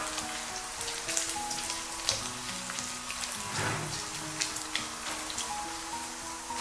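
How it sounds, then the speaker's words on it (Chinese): Pork belly pieces stir-fried in a dry wok over medium heat, giving a steady crackling sizzle with scattered pops and spatters, close and continuous throughout. "下入切好的五花肉，中火反复的煸炒"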